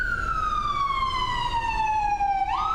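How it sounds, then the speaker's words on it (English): An ambulance siren wails loud and close outside, a single long descending tone that sweeps down steadily, then jumps back up at the end. "That's an ambulance."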